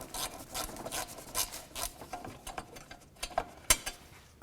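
Ratchet clicking as a screw comes out of the lower bumper grille on a 2009–2016 Mercedes-Benz E350, quick irregular close-up ticks and small metallic taps, fairly quiet.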